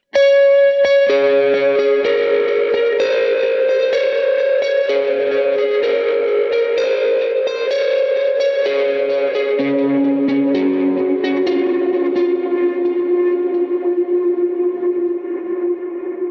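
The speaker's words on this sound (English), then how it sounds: "you still get the huge reverb, but because the delay and reverb are now separate" Sustained, heavily processed guitar chords through a Line 6 HX Stomp swim in a long wash of reverb and repeating delay, loud and continuous with no voices.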